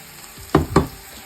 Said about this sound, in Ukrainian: Коли вже так цибуля почала золотитися, кидаємо морку